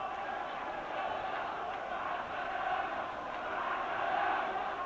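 Basketball fans of Al Ittihad Alexandria chanting against their own players during a match with Al Ahly, a steady, distant crowd roar of massed voices filling the arena without letup.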